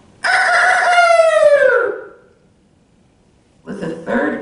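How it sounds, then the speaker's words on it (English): A rooster gives one loud, close, drawn-out crow that falls in pitch, then after a short silence starts another burst of crowing. "With the third crow of the cock"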